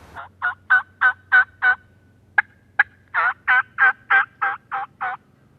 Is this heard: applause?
no